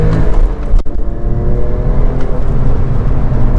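A Porsche 997 911 pulls hard in second gear, its engine note loud and continuous as it accelerates, with a brief dip like a shift or throttle lift near the start before the drone resumes and keeps climbing.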